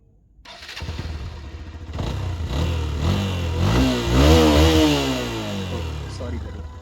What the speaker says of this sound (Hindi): Yes, I am talking about over raving.